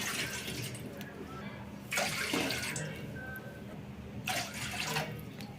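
Water is poured from a cup into a pot for heating on a stove, giving steady splashing with two louder bursts of pouring.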